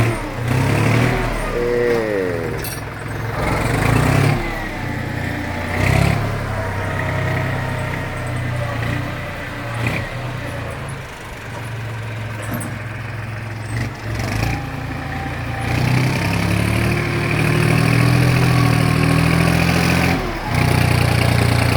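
A farm tractor engine runs steadily with a low rumble, rising in several revs as it works dirt at a fill site, loud and close throughout.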